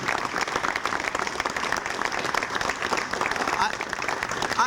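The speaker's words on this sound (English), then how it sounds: "they deserve a big round of applause" An audience at a ceremony breaks into a big round of applause, a loud, continuous rattle of many hands close by, with voices talking over the clapping throughout.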